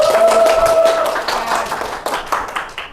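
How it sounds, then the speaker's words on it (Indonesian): Classroom clapping for a student discussion group after their presentation, a short burst of hand claps that thins out toward the end, with a faint tone early on. "beri tepuk tangannya dong"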